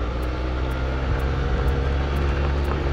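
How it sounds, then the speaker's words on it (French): A propeller airplane drones overhead at an air show, a steady loud engine roar that holds without a break, with no talk over it. "je crois que j'ai vu passer un avion"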